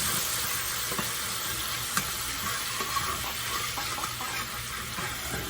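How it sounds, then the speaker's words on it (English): Water poured into a hot pan of chicken drippings while making Jerusalem chicken gives a steady, close hiss and sizzle with small crackles and no talking. "a little bit of water in there to kind of loosen up the drippings."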